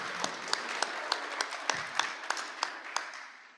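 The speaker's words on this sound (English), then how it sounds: "if we could please give them a round of applause for all their hard work in making today special" Scattered, sparse clapping from a small audience at a Rotary Club of Gainesville charity auction event, about a dozen distinct claps spaced irregularly over a few seconds, moderately close and without talk.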